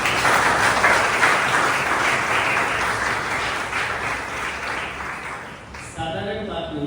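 Loud, sustained audience applause at a sermon, dense clapping filling the room for several seconds, then thinning out near the end as a voice begins.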